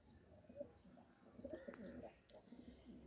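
High-flying Madras pigeons cooing softly in short, repeated low coos with a few faint chirps, fairly quiet and close, with no speech.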